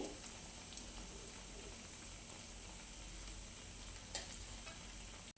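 Bread pieces fry in a pan for a sweet, browning on both sides, giving a soft, continuous sizzle with no talk.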